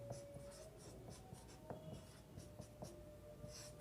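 Someone writes the word election by hand on a board, producing faint, soft scratchy strokes and light taps in short bursts over a quiet room hum, with no talk.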